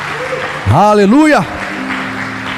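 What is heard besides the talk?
applause in church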